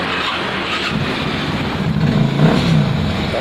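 Harley-Davidson motorcycle engine running loud and close after starting, a dense steady rumble that swells slightly partway through, with no voices over it.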